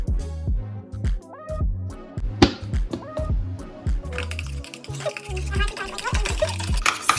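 Mayonnaise and lemon being stirred together into spicy mayo in a home kitchen, with rhythmic clinks and scrapes of a utensil against a bowl, close and fairly loud, under bits of talking and a voice.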